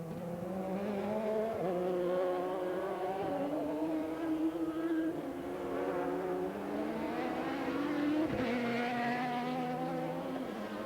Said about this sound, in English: Response is given by the Ferrari Modena of Scuderia Ecos, driven by Kirkcaldy and Kinch.